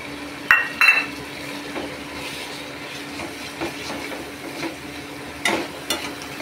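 Paneer stirred into a thick fried spice masala in a pan, with a few sharp metal utensil clinks over a steady low kitchen hum.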